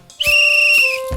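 A guard's whistle blown in a folk performance, one shrill sustained blast lasting about a second, loud and close.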